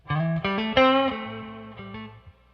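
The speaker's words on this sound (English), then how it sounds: "Let's add a little bit of reverb. So I'm going about 5 on the reverb." An electric blues guitar with reverb added plays a short phrase of picked notes and a chord, each ringing out with a spacious wash that tails off slowly.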